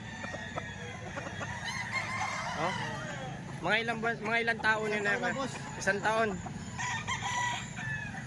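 Roosters crow repeatedly nearby in Lipa, Batangas, long harsh calls rising and falling, while people chat in the foreground between and over the crowing.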